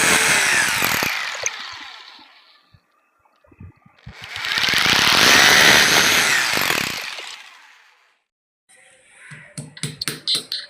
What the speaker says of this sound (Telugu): హోల్స్ పెట్టుకొని డ్రిల్లింగ్ చేసుకుంటున్నాము